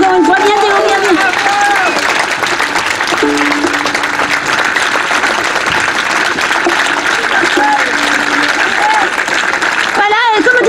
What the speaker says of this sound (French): on applaudit encore, moi j'applaudis encore une fois.